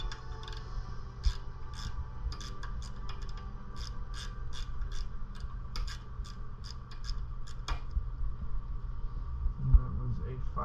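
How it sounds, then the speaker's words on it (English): Ratchet turning a 5/16 socket to loosen a bolt on a Predator 212cc small engine: a series of quick, close clicking strokes in irregular bursts over a low steady background hum. "that was a 5/16 socket I'm using to remove this bolt"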